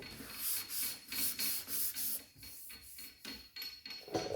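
Hand block sanding across the body of a 1963 Cadillac Coupe DeVille, close rhythmic rasping strokes in quick even pulses that soften and shorten toward the end.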